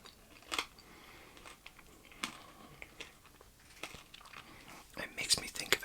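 Ritter Sport salted caramel chocolate crunched and chewed up close, a few crisp bites and soft chewing clicks, quiet and intimate, with faint plastic crinkles near the end.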